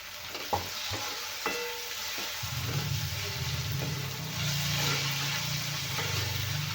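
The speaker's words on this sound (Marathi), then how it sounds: "टोमॅटो पण छान तेलामध्ये परतून घेऊया" Tomatoes sauté in hot oil, opening with a few sharp stirring clinks before a steady, loud sizzle settles in and carries on without any voices.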